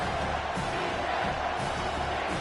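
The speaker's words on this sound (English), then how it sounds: "This crowd knows when to bring it." Dense, steady roar of a football stadium crowd at a Michigan State game, loud and sustained with no clear breaks, like a broad wash of cheering.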